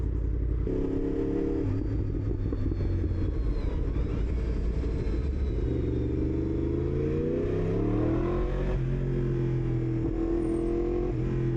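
New Yamaha R1 sport motorcycles riding in on an evening ride, engines droning and revving steadily throughout, with rising and falling pitch as they accelerate, fairly close, with no talk.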